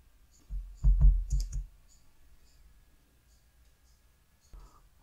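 A cluster of quick computer mouse clicks sounds close and crisp in a quiet room, followed by one more faint click.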